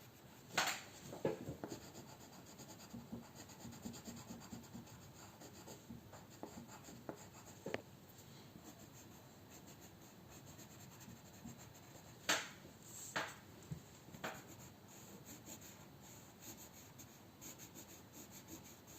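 Coloured pencil shading on paper, a soft continuous scratchy rubbing with occasional sharper strokes, close but very quiet and without talk.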